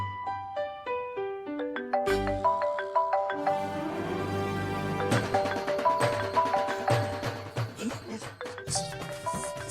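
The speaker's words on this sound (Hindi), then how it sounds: "सासू माँ का फोन है।" A mobile phone ringtone plays a bright melodic tune during a Hindi TV comedy scene, loud and continuous, the notes stepping downward before swelling into fuller music.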